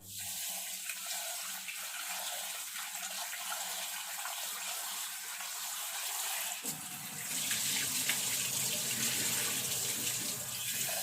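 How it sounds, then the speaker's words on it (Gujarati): Rice is rinsed by hand under a running tap, with a steady rush of water that grows louder and fuller partway through, along with light swishing of the grains. "અને હવે ચોખા ધોઈશું."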